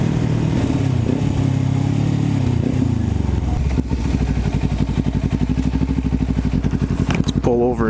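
A Kawasaki Ninja 400 fitted with a Hindle slip-on exhaust runs close by on a chilly evening ride, its engine note dropping and then settling into a steady pulsing drone, with a brief higher whine near the end.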